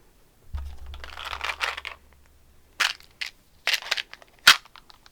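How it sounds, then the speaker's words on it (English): Dice from a set of four Looney Tunes novelty dice are rolled during a tarot reading, giving a few bursts of clattering, rattling tumbles and a sharp final click, close and fairly loud, with no talking. "we're going to roll the 4th set of dice for you"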